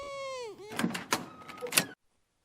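A creaking door swings open as a sound effect in an Alice in Wonderland radio play: a drawn-out, falling hinge creak followed by a few clunks and rattles, then silence.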